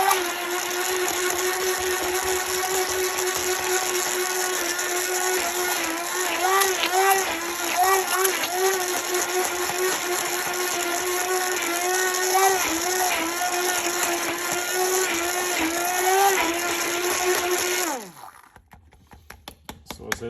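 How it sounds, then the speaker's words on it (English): A stick immersion blender whirs steadily through chunky tomato pizza sauce with fresh basil, its high motor whine wavering as it catches pieces, running close and loud for about eighteen seconds before cutting off abruptly. "I'm going to take an immersion blender or a stick blender. I'm just going to reduce it down"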